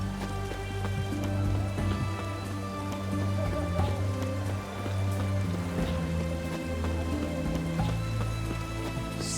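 Steady rainfall in The Witcher 3: Wild Hunt, a continuous patter of drops on surfaces beneath a low droning game soundtrack, with no talk.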